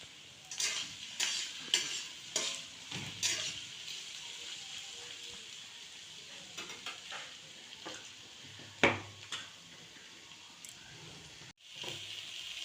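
Chopped beans frying in a pan for a masala vegetable paratha filling, soft sizzling with repeated spatula scrapes and clanks, fairly quiet and intermittent.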